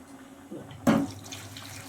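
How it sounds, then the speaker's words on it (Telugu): Hot water splashes into a cooking vessel for a cauliflower curry in a home kitchen: a faint trickle first, then one short, louder pour near the middle, with no talk. "వేడిగా నీళ్ళు పోసేసుకొని"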